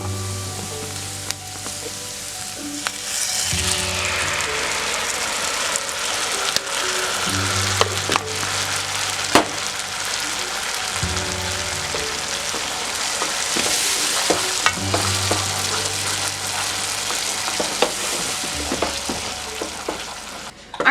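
Tomato and onions sizzle steadily in a pan for an eggplant and potato curry, with repeated scraping and clacking of a spoon stirring through, loud and close throughout.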